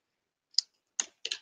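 A banner end punch cuts into card stock with three sharp, dry clicks: a single crisp snap, then two close punches a moment later, all near and alone in silence.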